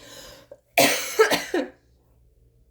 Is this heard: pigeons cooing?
no